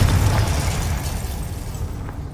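In Hogwarts Legacy, the Confringo fire spell lands as a deep, rumbling explosion with a heavy low boom. It is loud at first, then fades over a couple of seconds with a crackling tail.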